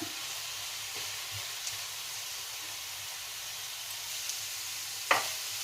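Vegetables fry in a pan for veg fried rice, a steady hissing sizzle that runs throughout, with a few faint clicks of stirring and one sharper scrape near the end, and no voices.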